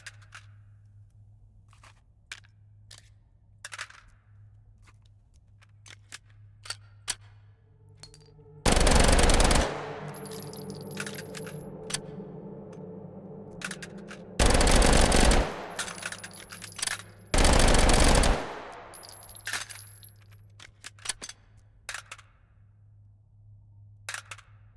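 Three loud bursts of automatic gunfire in the VR shooter H3VR, each about a second long and spaced a few seconds apart, over a quiet background with scattered small clicks.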